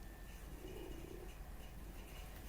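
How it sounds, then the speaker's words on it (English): A pet cat purring while being petted, a very faint, low, steady rumble close to the microphone, with no talking. "There, you can hear him purr."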